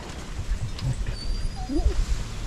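A few brief, faint whimpers from puppies rise over a rumble of outdoor background noise near the end.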